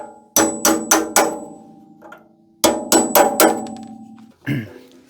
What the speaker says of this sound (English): And now we'll punch these rivets through and we should be able to lift the cover off.